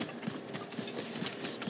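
Horse hooves clip-clop in a quick, regular rhythm in a Legend of Zelda video game, a fairly faint trotting approach heard on its own.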